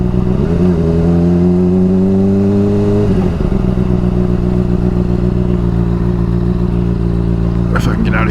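A motorcycle engine revs and accelerates loudly and close up, its pitch climbing then dropping as the clutch is slipped, with a rider's voice over the engine.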